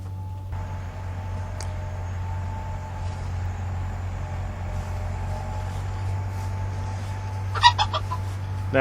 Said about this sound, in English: I did want to introduce you to Ratface, the meanest rooster in the world